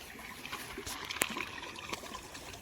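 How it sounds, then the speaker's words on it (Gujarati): Water trickles into a farm tank, a faint, continuous dribble with a few soft splashy clicks scattered through it. "તો આ કુંડીમાં પાણી આવે હા,"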